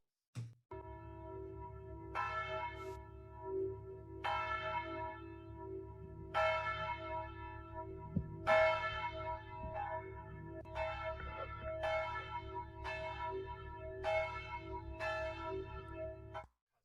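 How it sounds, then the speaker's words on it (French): Church bells ring out in a repeating sequence of bright, resonant strikes, each tolling and ringing on, heard at a moderate distance with no talking. "Ce musulman est contrarié par le son des cloches d'église."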